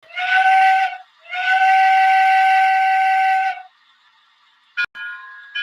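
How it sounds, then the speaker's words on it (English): A shrill, tonal steam-style whistle from a model steam locomotive blows twice, a short toot then a longer blast, followed by a quick clipped toot after a pause. "So they are equipped with a whistle."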